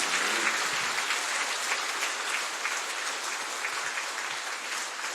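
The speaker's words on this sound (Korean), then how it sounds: "하나님 살아계신 하나님께 영광의 박수 한번 올리도록 하겠습니다." A church congregation at a revival meeting applauds in a sustained, even wave of many hands clapping, steady and fairly close for several seconds without voices.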